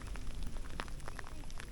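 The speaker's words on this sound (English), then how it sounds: "It's currently raining a little bit." Light rain falling outdoors in the Dolomites, a close, steady patter of scattered drops tapping on a surface, brief and even with no voices.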